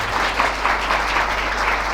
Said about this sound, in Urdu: آئیے اپنے زندہ خدا کے لیے زوردار تالی بجائیں۔